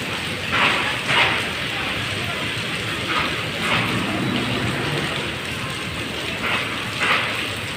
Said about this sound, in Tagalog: Ulan na may kidlat.